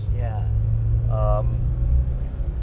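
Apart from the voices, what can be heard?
Porsche 924 Turbo 4-cylinder 2-litre engine driving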